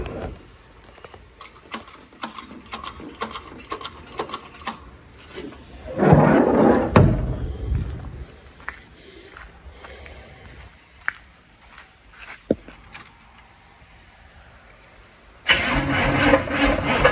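A 1978 Chevrolet Malibu engine cranks with a whirring starter over several seconds, then catches and runs briefly, and after a quiet stretch cranks again and fires up, heard close and fairly loud.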